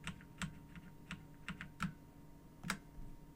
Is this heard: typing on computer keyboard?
yes